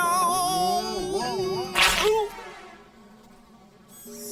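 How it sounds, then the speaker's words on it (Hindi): Flies buzz inside a garbage truck, a wavering, pitch-sliding drone that swoops up and down, broken by a sharp whooshing burst before the buzz fades and returns faintly. "मक्खियों को कचरा क्यों पसंद है?"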